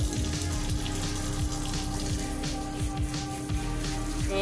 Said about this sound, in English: Now we're going to rinse him off